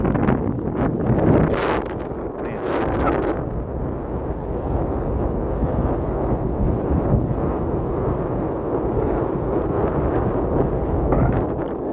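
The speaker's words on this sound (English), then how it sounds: "So you can feel the wind coming through this like little passage right here." Wind rushes through a narrow passage on a Florida nature reserve trail, a loud, steady roar with gusty buffeting on the microphone that persists throughout, with no voices.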